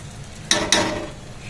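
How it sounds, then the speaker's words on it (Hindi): Dal tossed with strong spices in a hot pan while being roasted dry to drive off moisture, giving two sharp close stirring scrapes followed by a soft sizzle fading out. "अब इसका मॉइस्चर जब तक खत्म नहीं हो जाता हम तब तक इसे भूनेंगे"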